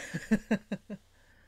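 A house cat gives a quick run of five short, evenly spaced meows or chirps close by, each brief and clear, followed by quiet.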